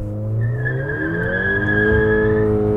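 A 2010 Volkswagen GTI with DSG gearbox doing a launch control start, tires squealing loudly and steadily for nearly three seconds over the close roar of the engine.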